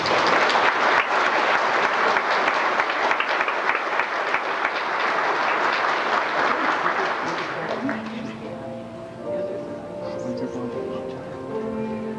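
Family and guests clap to welcome a baby into the community at a 1997 baptism, a full round of applause lasting several seconds before fading into quieter room sound with voices.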